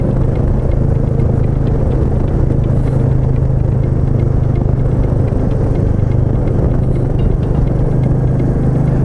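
A Royal Enfield Meteor 350 Supernova motorcycle engine drones steadily while riding, a loud, continuous low rumble that never drops out, with wind noise on top and no talk.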